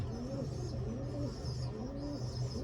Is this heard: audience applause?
no